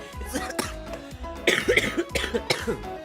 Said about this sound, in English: I'm trying to cough out the phlegm so that I don't have any more phlegm to deal with